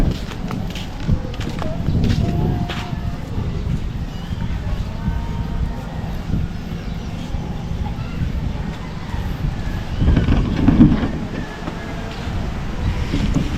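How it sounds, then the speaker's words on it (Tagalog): A sea breeze blows along the shore with waves breaking nearby, a constant low rumble of wind and surf with a louder surge near the end and some voices in the background. "Kasi yung hampas ng alon, may hangin eh."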